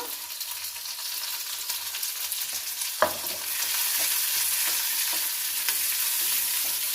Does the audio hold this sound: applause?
no